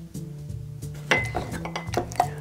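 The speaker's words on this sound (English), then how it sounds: "we'll cut this in half and then dice up the insides, throwing it into the glass, and then we will muddle it gently" Diced kiwi being muddled in a cocktail glass: repeated glassy clinks and dull knocks of a muddler in quick irregular rhythm, close and fairly loud.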